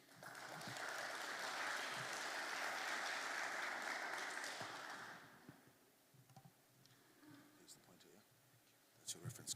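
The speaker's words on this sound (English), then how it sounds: "Let's give him a warm round of applause" Loud, sustained applause from a conference audience for about five seconds, then fading into scattered small noises and faint room sounds.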